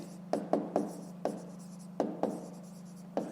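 A pen taps and scratches on paper in a small room, about eight short strokes in an uneven rhythm, close and fairly quiet over a steady low electrical hum.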